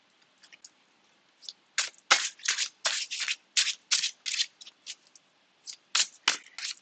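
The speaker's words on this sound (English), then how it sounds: "Let's get another tarot card out." Tarot cards being handled and shuffled, a quick run of crisp papery riffles and snaps in uneven bursts, close up, after a few quiet taps at the start.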